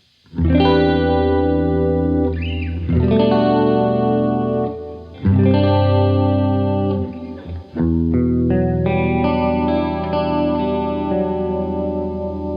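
Sustained electric guitar chords through a micro pitch shift effect, with a subtle doubled, slightly detuned shimmer, several chord changes ringing out alone.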